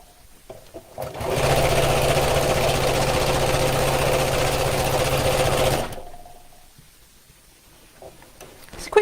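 A sewing machine stitches around bag pocket pieces in one continuous loud whirring run of about four and a half seconds, starting and stopping abruptly, with quieter handling noises before and after.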